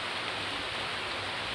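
Rain falls steadily in a continuous soft, even hiss with no distinct drops, heard faintly and alone.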